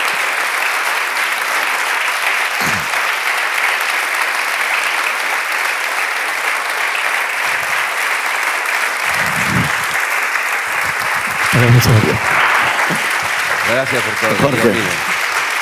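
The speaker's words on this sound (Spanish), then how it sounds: "Pido un fuerte aplauso tanto para Arturo Pérez Reverte como para Jorge Fernández Díaz." An audience at a literary event in Valladolid claps in sustained, loud applause for authors Arturo Pérez Reverte and Jorge Fernández Díaz, with a voice speaking briefly over it toward the end.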